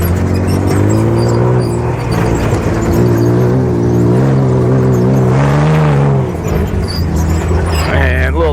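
Baja race car engine revving hard on a race track, a loud continuous roar rising and falling through the gears close up, with brief dips as the driver shifts down into second.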